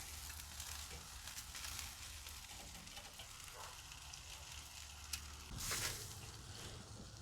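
Chicken wings sizzle and crackle steadily over a grill fire, with a brief scrape and a burst of louder sizzling near the end as they are flipped; no one speaks.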